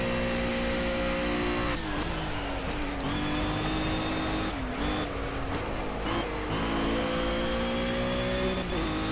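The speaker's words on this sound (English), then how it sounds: "I'm getting on the throttle sooner, that's good" A race car engine in Project CARS on Xbox One drones loud and steady, its pitch climbing through each gear and dropping at shifts, with several acceleration pulls in a row.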